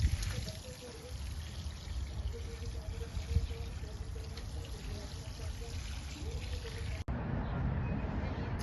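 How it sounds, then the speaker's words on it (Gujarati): Water pours steadily onto newly planted cucumber seedlings in a vegetable patch, a continuous close splashing trickle that runs for several seconds before the sound changes abruptly near the end. "ચોકથી પાણી પીવડાવે પપ્પા."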